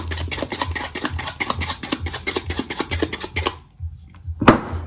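Brownie batter worked briskly with a fork in a bowl, giving a steady run of quick clinking, scraping strokes close up, then a pause and one last clink.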